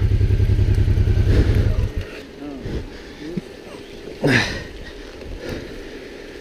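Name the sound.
motorcycle accelerating on mountain pass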